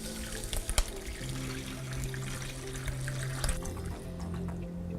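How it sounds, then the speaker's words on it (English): Water pours steadily into a crock pot over bones and vegetables for bone broth, a continuous close gurgling stream with a faintly rising tone as the pot fills; no voices. "Cover everything with water."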